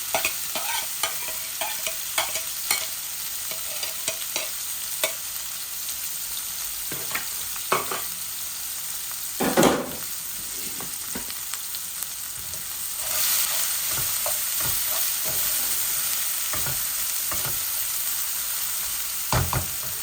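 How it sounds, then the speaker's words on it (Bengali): Onion frying in oil in a pan with bay leaves, a constant sizzle with scattered scraping stirs, one louder clatter midway, and the frying growing fuller toward the end. "এখন আমি এই দেখো একটা পেঁয়াজ দিলাই আর দিলাম"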